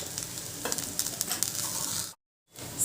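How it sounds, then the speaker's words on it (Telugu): Boiled sweet corn kernels stirred into curry leaves frying in a pan, a soft constant sizzle with light scraping stirs, then a brief silent gap and the sizzle returns, with no talk. "ఆ గింజలు వేసుకుని బాగా కలుపుకోవాలి"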